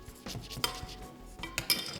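Vegetable dumplings made with cabbage, carrots, green beans and spring onions being placed into a pan of simmering sauce, heard as soft clinks of a spoon against the cookware in a few quiet bursts.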